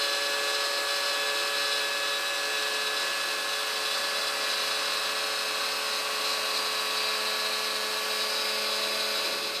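A power router with a straight bit cuts a truss rod channel into a custom Les Paul guitar neck, giving a loud, steady high-pitched whine that holds unbroken to the end.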